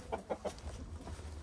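A few short, soft clucks from a rooster in quick succession, fairly quiet and close, followed by low background noise.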